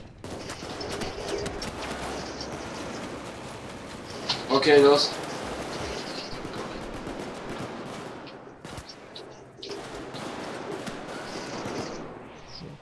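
AK-5 rifle in the shooter game Payday 2, firing repeated bursts under constant action ambience, with a denser, louder volley in the middle and more shots later; someone speaks briefly.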